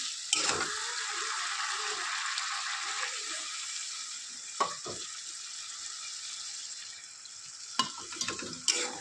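Fish and tomato curry sizzling in a pan with hot water added, a steady bright hiss punctuated by a few sharp utensil knocks and stirring sounds, no talk.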